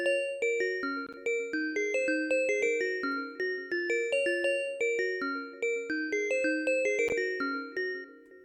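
Vibe 2 bell preset from the Purity plugin in FL Studio plays a bright, chiming melodic pattern of struck bell notes in a steady rhythmic sequence, clean and alone with no voices.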